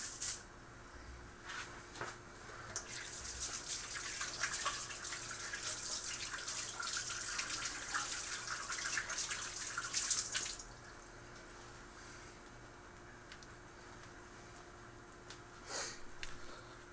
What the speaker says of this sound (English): You can just wash your hands after.